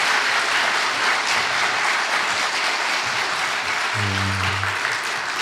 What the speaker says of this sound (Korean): 우리 박수로 환영하고